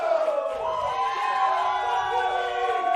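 A wrestling crowd cheers loudly for Blizzy Blake during an independent show, a dense sustained roar of voices and whoops throughout.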